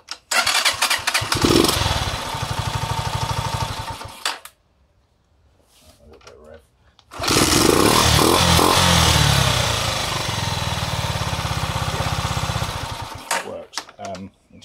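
A Hartford HD125S motorcycle engine starts and runs roughly for a few seconds, then cuts out. After a quiet pause it starts again and revs loudly for several seconds, close up.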